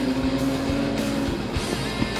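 Sprintcars race out of the final turn at a night Speedweek final, a steady loud engine roar with droning tones and a few sharp bursts as the pack passes nearby.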